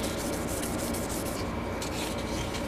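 Close, steady rubbing of 3000 grit sandpaper by hand over a rusty steel hatchet head, a dense, even scratchy hiss that continues without pause.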